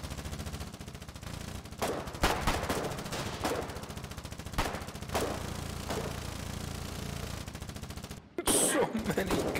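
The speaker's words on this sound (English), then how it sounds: "So many guns!" Video-game gunfire from a Colonial frontline trench battle in Foxhole, with bursts of machine-gun fire and single shots cracking steadily over a continuous combat din, loud and close, with a sharp explosive blast near the end.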